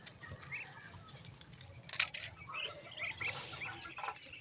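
Chickens cluck and murmur steadily at close range, with one sharp louder squawk partway through, over faint outdoor background noise.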